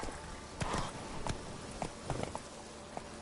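Hooves of Roach, the horse in The Witcher 3, clopping in a quick uneven rhythm, fairly faint and close, with no talk.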